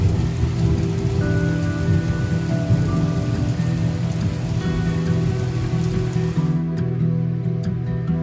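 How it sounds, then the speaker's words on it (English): Heavy rain pours steadily during a thunderstorm in Croatia, with deep rumbling thunder rolling underneath throughout, loud and close, the roar thinning slightly near the end. "warm weather in Croatia also always means thunderstorms, and they can be quite dramatic"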